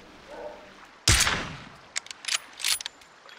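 One loud gunshot blast rings out in PUBG, followed by several quicker, lighter shots in an uneven burst of rapid fire.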